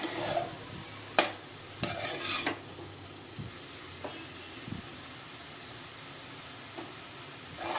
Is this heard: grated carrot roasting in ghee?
yes